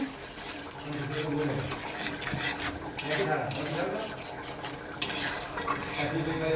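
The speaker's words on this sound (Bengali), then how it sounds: "এবার চলুন আগে লেড়ে দেবো আমি মশলাটাকে" A spoon stirs a spice mix of chilli, coriander, cumin and salt in a pan for prawn malai curry, with repeated metallic scrapes and clinks against the pan, two sharper knocks, and faint sizzling underneath.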